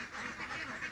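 Farm ducks quack steadily and close by, a busy overlapping chorus from a flock just let out, with no talking over it.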